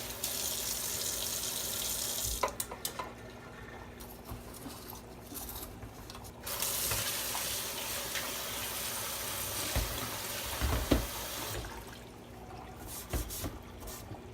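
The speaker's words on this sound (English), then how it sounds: "Now that gets rinsed off." Aquarium filter parts rinsed under a running tap, a steady broad rush of water with brief breaks and spatters as the pieces move through the stream, close and continuous, no talk.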